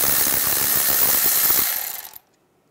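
Rapid ratchet clicking while brake caliper bolts are loosened on a 2007-2013 Chevrolet Silverado 1500, close and steady for about two seconds before it stops abruptly into silence.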